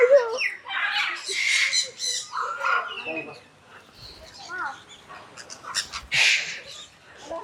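Birds squawk loudly and repeatedly at the Thanjavur Rajali bird park, harsh overlapping calls close by, mixed with people talking throughout.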